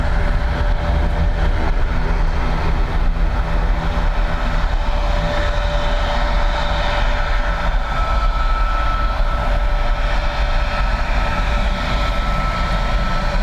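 An Airbus A320 airliner at Dublin Airport fills the air with a loud, continuous engine roar and steady tonal whine that holds throughout without pause or talk.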